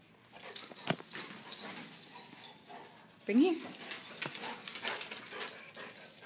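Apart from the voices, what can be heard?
dog whimpering while playing fetch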